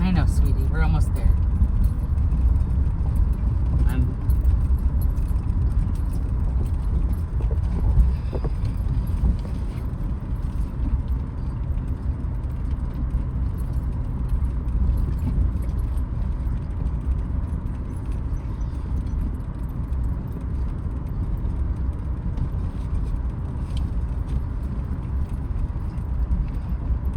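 A truck climbing a rough dirt road uphill toward a hilltop camp spot, not in four-wheel drive, with a steady low engine rumble and occasional rattles and bumps throughout, under people talking inside the cab.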